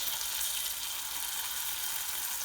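Oil sizzling steadily in a pan while cooking murgh masala, a loud, continuous hiss and crackle with no talking.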